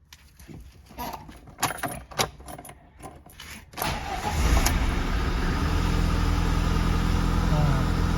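A VAZ 2109 hatchback's starter cranks the engine in a long, steady grinding run that never catches, preceded by scattered clicks and rattling; someone talks nearby.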